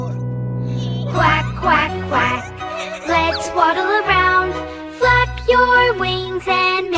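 Sung nursery rhyme about ducks with musical accompaniment, where the singing voice imitates duck quacks in bouncy repeated bursts over a tinkling, jingly backing.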